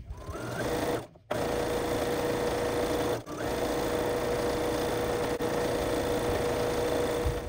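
Sewing machine chain piecing fabric squares for bunting, running in a steady continuous whir with two brief pauses between pieces, close and fairly loud with no talking.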